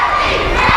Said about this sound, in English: And the crowd shouting happy.